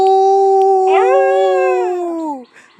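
Loud, drawn-out dog howling: one long wail, a second voice joining and rising, then both sliding down in pitch and fading.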